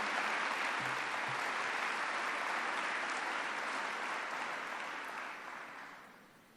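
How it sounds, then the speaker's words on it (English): A large audience at a state summit on youth mental health claps in a steady, even wash of applause that holds for several seconds and then gradually fades away. "Let's give a round of applause to all of our young people who are gathering here today."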